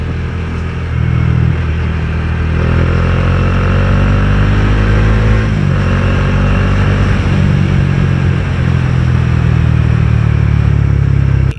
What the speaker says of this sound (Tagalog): Harurot lang tayong konti.